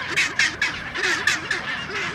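Penguins at an Antarctic colony give harsh, braying squawks like a donkey, several loud calls repeating in an uneven rhythm close by, with no talk.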